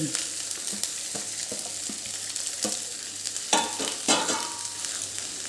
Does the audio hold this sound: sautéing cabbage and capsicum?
yes